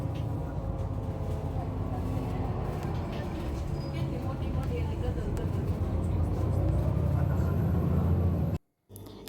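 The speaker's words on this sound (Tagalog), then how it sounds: "Ayan, dito nga tayo ngayon sa loob ng bus" Steady low engine rumble and road noise from inside a moving bus, continuous and fairly loud, cutting off abruptly near the end.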